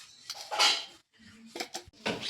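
Laddoos packed into a lidded container produce a few clattering knocks of metal vessel and lid, with short bright clinks and taps separated by brief pauses.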